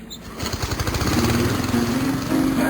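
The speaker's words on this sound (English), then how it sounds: "I think I'm going to start mowing the lawn." A lawn mower engine starts with a rapid sputter that quickly settles into a steady, loud, close running drone and continues without talk.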